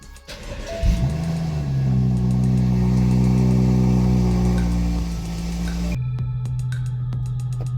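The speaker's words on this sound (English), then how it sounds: "Start the car." A BMW M235i engine cranks and fires, then revs steadily with a loud, sustained mid-range drone. Near the end it settles into a lower, steady idle.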